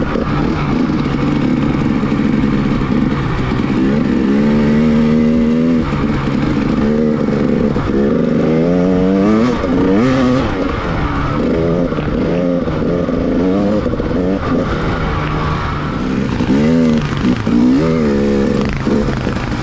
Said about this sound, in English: the big Honda hauled back onto the hard pack, we're ready to roll again